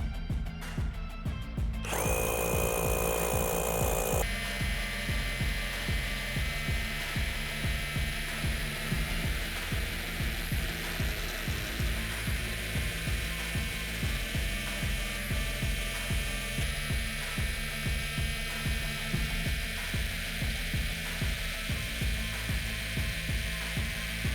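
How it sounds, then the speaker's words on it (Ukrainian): A Procraft cordless rotary hammer drills with a 26 mm bit, the largest it is rated for, into a workpiece without going through. The hammering runs loud and steady for the whole stretch, a dense rapid pulsing with a brief higher whine near the start. "беремо бур 26-го діаметру, максимально дозволений для цієї машинки, та буримо але не наскрізь"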